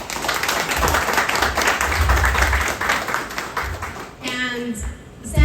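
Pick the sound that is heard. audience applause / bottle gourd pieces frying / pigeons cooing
audience applause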